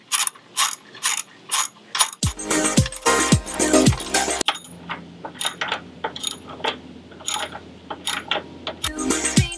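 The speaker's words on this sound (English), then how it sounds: "You're going to use a 17mm socket set to get off the OEM bolts to attach the new rock sliders." A 17mm socket on a ratchet removes the factory bolts from a Jeep Wrangler to fit rock sliders, with close, rapid clicking pawl bursts in repeated runs and metallic clatter between them.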